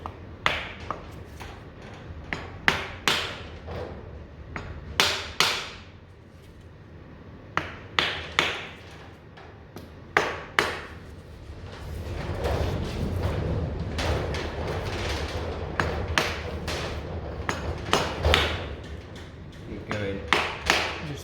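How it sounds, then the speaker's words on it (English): Hammer drifting a pinion seal into the differential of a 1960 Ford Consul, a string of sharp, close metallic taps in irregular clusters, with a stretch of shuffling handling noise in between. "get a nice gentle persuader tool just to drift that in"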